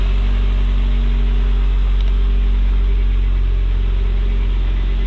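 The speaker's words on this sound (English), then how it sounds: "Good running motor. Rev it up here in just a second." A 2011 Mitsubishi Lancer Evo X MR engine runs steadily at idle, a loud, close, even rumble with a deep low hum and no clear rev rise.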